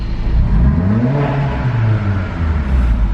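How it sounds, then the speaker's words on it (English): A 2015 Mercedes-Benz CLA 45 AMG 4MATIC with its AMG exhaust revs up loud and close, the engine note climbing and falling through a short rev burst with no talking. "This one also does come along with the AMG exhaust, so I'll give you guys a little sound of what it sounds like."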